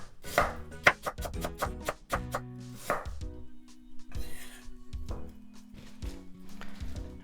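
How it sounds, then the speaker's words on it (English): Ginger is sliced with a knife on a cutting board, a quick run of crisp chopping taps up close, followed by slower, sparser cuts. "And this ginger, I'm just gonna slice it."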